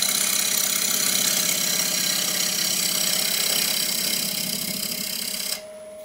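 Wood lathe turning a bowl blank down to a cylinder, the gouge cutting off centre: a loud, steady motor-like drone with a rhythmic rumbling chatter that runs nearly six seconds, then drops to a quieter hum as the cut stops.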